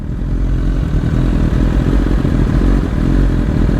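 A BMW S1000RR sport motorcycle out on a road ride, its engine a loud, close, steady roar mixed with wind rumble and clatter.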